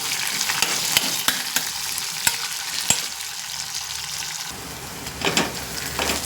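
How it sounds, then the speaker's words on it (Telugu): Sliced onions and green chillies fry in a pan for a bitter gourd tamarind curry, giving a steady close sizzle with scattered clicks of stirring and a brief pause of the spatula near the end. "ఉల్లిపాయ ముక్కలు ఇక బాగా వేగినాయి కదా"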